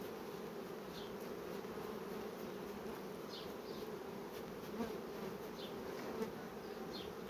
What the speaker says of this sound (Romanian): Albinele se retrag imediat de pe rame.